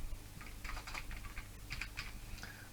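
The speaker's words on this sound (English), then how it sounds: "I'm going to type in my alternative name" Someone typing a name on a computer keyboard: a quick, uneven run of close, light key clicks in two short bursts over low background hum, with no talking.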